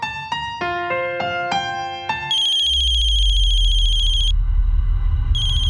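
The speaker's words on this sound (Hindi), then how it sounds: "मम्मी जी का फोन है।" A telephone ringtone for an incoming call plays loud and close: a bright stepped electronic melody of quick tones, then a sustained shrill ring over a low rumble that cuts off briefly and resumes.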